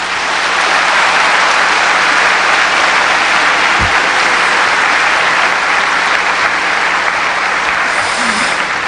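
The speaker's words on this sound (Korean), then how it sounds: "여러분 다시 한번 큰 박수를 부탁드리겠습니다" A lecture hall audience at a venture business event applauds after a special talk by a former president, a continuous, even wash of clapping for the whole stretch, loud and close, with no voices.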